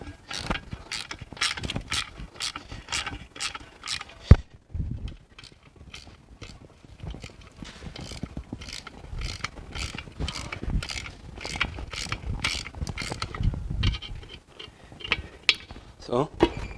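Socket wrench ratcheting on a bolt of a constant mesh gearbox, a long run of quick, evenly spaced metallic clicks up close, with a sharp knock partway through and faint voice murmur under the rhythm.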